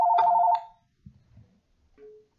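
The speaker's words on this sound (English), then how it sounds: "Sorry for that phone there." A phone rings in a room with one short, loud electronic trill, then a few faint scrapes and a brief soft tone after it.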